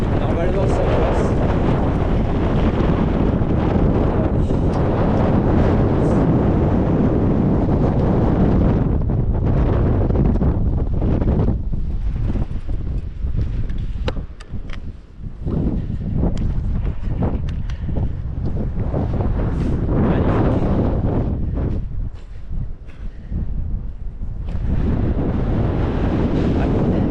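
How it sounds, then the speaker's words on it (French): Strong wind buffets the microphone outdoors on an electric mountain bike ride through hilly Basque countryside, a loud continuous low rumble that briefly dips and surges. "là je suis en plein vent"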